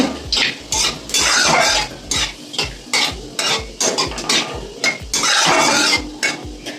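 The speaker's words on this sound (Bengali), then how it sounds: "ভালো করে একটু ভাজা ভাজা করে নেব" Sizzling oil with panch phoron and dried red chillies being fried, a utensil scraping and stirring in a pan, rhythmic metallic clinks repeating steadily, close and fairly loud, no talking.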